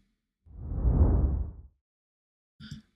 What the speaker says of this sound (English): So I'm going to go ahead and bring in a little whoosh sound.